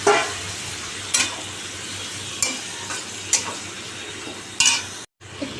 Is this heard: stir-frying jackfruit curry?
yes